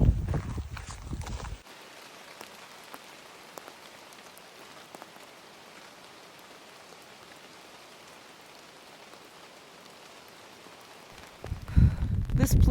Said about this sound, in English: I actually love that it's raining right now because it makes it even more mysterious.